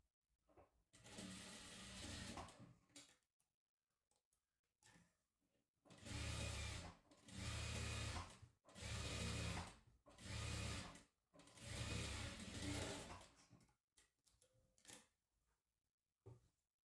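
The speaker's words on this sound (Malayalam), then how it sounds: "അത് നല്ല വശത്ത് വെച്ചിട്ട് സ്റ്റിച്ച് ചെയ്തെടുക്കുക" A sewing machine stitches a fabric facing strip for a crop top in several short runs: one early burst, then four or five closely spaced runs of rapid mechanical whirring separated by brief pauses.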